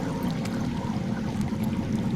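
Water flowing underground in a Game of Thrones game, a faint, steady low gurgling rush that continues evenly for the whole clip.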